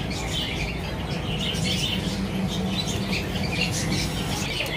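Pigeons kept for sale, including Rajasthani breeds, chirp and coo in a busy, continuous chorus with faint squawks, close by and with no talk.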